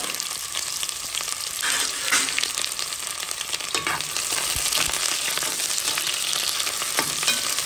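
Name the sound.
onion frying in hot oil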